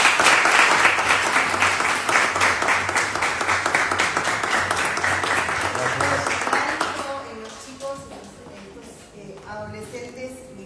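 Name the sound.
audience applause at a book presentation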